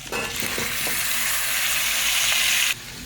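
Potatoes and carrots sizzle loudly in a hot pan of softened pork, tomato paste and oyster sauce for kaldereta, a few sharp clatters as they drop in, then a steady frying hiss that cuts off abruptly near the end.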